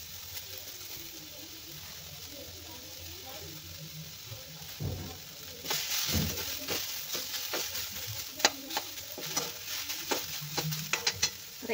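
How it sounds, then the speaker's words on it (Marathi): Chopped large onion dry-roasting in a pan, with a soft sizzle under steady scraping and stirring clicks that grow louder and busier toward the end. "मोठा कांदा चिरून हा पण छान भाजून घ्यायचा आहे."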